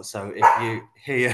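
A puppy barks at a squirrel outside a back door, short yips and barks heard close while a person talks over them.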